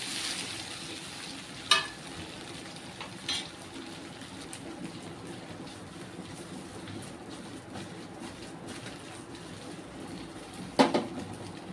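Dhokla being stirred into a hot tempering pan, with a soft steady sizzle and a few sharp clinks of the spoon against the pan, two of them louder, and no talk.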